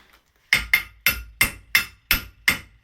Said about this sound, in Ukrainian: Беремо латунний молоточок.